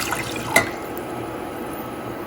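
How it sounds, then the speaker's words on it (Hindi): Two cups of water are poured into a pot for Kashmiri chai, a steady close splashing stream of liquid with one brief clink, heard alone without talk. "तो ऑन कर दिया और इसमें मैंने ये 2 कप रेगुलर पानी जो है ये इसमें मैंने डाल दिया।"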